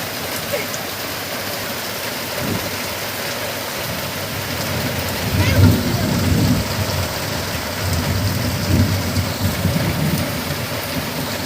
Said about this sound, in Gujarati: આજ બહુ વરસાદ આવ્યો।